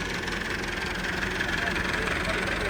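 A heavy tractor engine runs steadily nearby on farmland, a loud continuous rumble with a knocking texture, while people talk over it.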